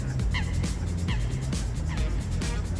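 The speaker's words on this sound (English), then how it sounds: "Do you hear this duck?" An aggressive duck calls repeatedly, about five harsh, rising quacks in an uneven rhythm, fairly close over steady background noise.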